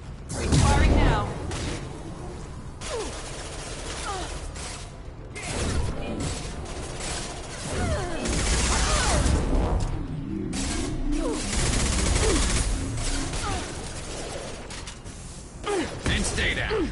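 Gunfire and mechanical weapon noise from the Mass Effect 2 video game, steady bursts and clatter running through the whole stretch, with game voices speaking over the action.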